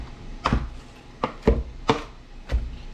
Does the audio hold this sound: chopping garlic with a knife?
yes